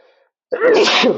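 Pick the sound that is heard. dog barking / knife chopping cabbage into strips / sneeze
sneeze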